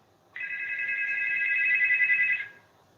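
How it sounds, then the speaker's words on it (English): A single electronic telephone ring, one steady trilling tone lasting about two seconds, clear and fairly close, with no talking over it. "I'm going to answer a phone call."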